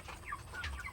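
Faint chickens cluck briefly in short, scattered calls over a low rumbling background.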